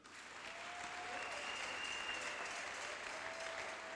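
A church congregation claps and applauds the Lord in steady, dense applause that holds evenly throughout, heard at a moderate distance.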